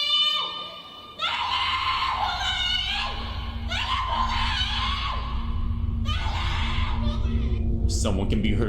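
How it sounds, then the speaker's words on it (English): A person screams and wails in distress at a door, pleading to be let in, loud and close, in repeated desperate bursts, with a low hum in the background. "Someone can be heard screaming for help,"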